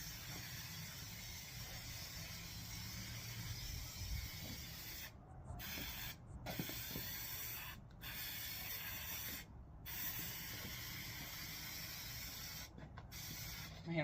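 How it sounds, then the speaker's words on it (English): An aerosol can of spray glue hisses in several short bursts with brief pauses between them, close and quiet, with faint handling noise underneath, during headliner replacement on a 1993 Jeep Cherokee. "I'm just going to spray a very generous amount of glue."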